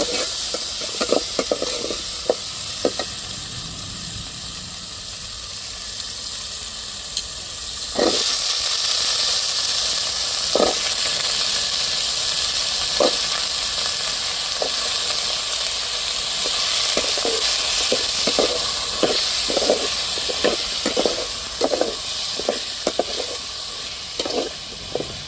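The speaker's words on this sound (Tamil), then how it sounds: "தக்காளி சேர்த்துறோம், நல்லா வதக்கி வச்சுக்கிடுவோம்" Tomatoes sauté in a pan for a prawn curry, giving a steady sizzle and hiss. Scraping stirs break through it, occasional at first and then coming quickly near the end.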